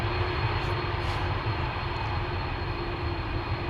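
Airbus A330 jets departing Amsterdam Schiphol Airport, a KLM A330-200 and a Delta A330neo, one after the other. A steady, loud, broadband engine roar holds throughout with no pause.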